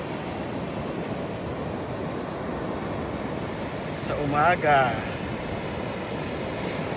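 Morning ocean surf washes onto a shore as a steady, soft rushing hiss with wind noise, and a person briefly speaks partway through.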